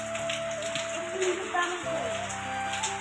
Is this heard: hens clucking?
no